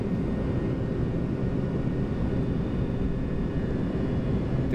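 Boeing 737-200 Combi jet engines at takeoff thrust on the runway at Mirabel, a loud, steady broadband roar heard from the cockpit, continuous and unbroken throughout.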